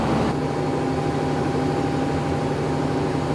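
A ship's generator engine runs in the engine room, a steady, close, droning hum with a low throb and a constant tonal whine, continuous and unchanging throughout with no voices.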